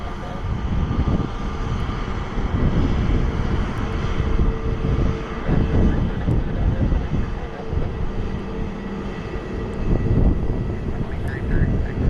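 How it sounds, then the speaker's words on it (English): A steady roar of Army Black Hawk helicopter turbine engines taxiing at an airport drones on, broad and rumbling, with faint intermittent radio chatter underneath. "the guard helicopters are still taxiing their way over towards Atlanta"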